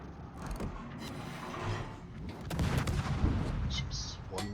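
Naval gunfire from warships in World of Warships, a steady dense rumble of booming cannon shots and mechanical clatter that swells louder midway through, with no pause between salvos.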